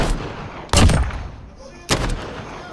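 Gunfire in a video game: two loud, close gunshots with heavy booming bodies, roughly a second apart, each decaying slowly, with no talk over them.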